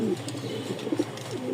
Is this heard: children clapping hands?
no